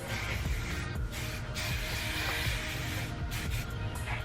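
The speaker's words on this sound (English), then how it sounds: "take your hairspray and spray all over, just in case you missed any underneath" A can of hairspray hisses in several short bursts over hair, close and fairly loud, the sprays broken by brief gaps.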